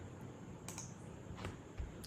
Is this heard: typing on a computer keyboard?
yes